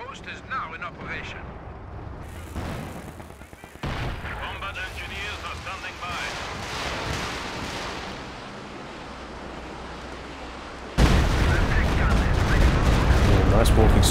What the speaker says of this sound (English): Nice walking Stuka barrage there.